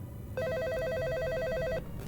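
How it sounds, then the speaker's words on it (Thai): A telephone rings on an office desk, one rapid trilling burst lasting over a second, moderately quiet above a low room hum, with no voices. "เสียงโทรศัพท์ที่อยู่บนโต๊ะดังขึ้น"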